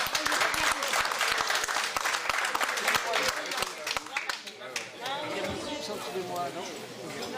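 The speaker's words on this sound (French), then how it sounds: "Allez, encore, on l'applaudit un peu plus fort, là, on l'encourage." Applause from an audience at a flea market show in Baudres, a dense, lively clapping that fills the first half and then thins out. An announcer's voice carries over and after it.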